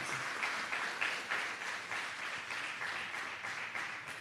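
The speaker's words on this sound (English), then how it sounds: "can we give all our youth mayors a rousing round of applause?" Audience applause for the youth mayors at the 2022 Youth Mayors' Forum of the Ministry of Local Government and Rural Development, a steady, dense round of clapping that holds evenly throughout.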